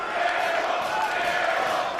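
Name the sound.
wrestling crowd cheering and chanting at ROH/NJPW Global Wars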